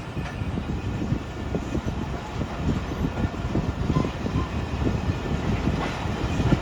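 Bolan Mail passenger train running on the rails along the Indus on the Sehwan to Karachi route, a steady rumbling roll with faint irregular clatter throughout.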